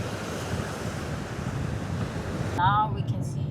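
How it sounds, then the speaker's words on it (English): Stormy ocean surf and gusting wind at Burntcoat Head Park, Nova Scotia, roar as a steady, loud wash with heavy wind buffeting on the microphone, and a brief voice-like call near the end. "Look at those waves."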